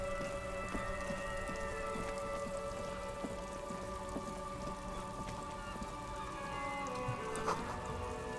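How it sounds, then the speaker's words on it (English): Steady rain falls in the video game Disco Elysium, a constant soft patter of raindrops on surfaces that continues evenly throughout with faint scattered drips and no voices. "This rain will not let up anytime soon."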